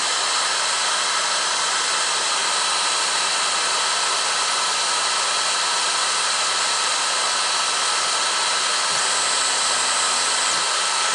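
An xTool RA2 rotary chuck on an Atomstack S20 laser turns through one full revolution, heard as a steady, loud whirring drone with a brief faint motor tone near the end.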